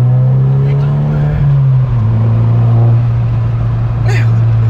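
A Volkswagen Scirocco R pulls hard from inside the cabin, a loud steady engine drone rising slightly in pitch as it accelerates, with people talking over it throughout.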